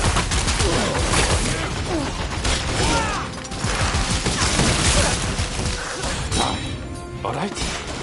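Dense gunfire crackles and thwacks through a battle in the action game Rise of the Ronin, loud and nearly continuous, with shouting voices over the shots.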